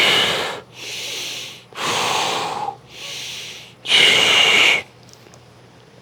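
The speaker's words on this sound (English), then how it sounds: "Inhale through the nose, reach, exhale through the mouth." Slow, deliberate breathing during a stretching routine, drawing in through the nose and blowing out through the mouth, in five close, loud breaths separated by brief quiet pauses.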